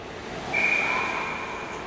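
Referee's whistle calling icing at a 16U girls' ice hockey game, a single sustained tone heard from some distance over arena background noise.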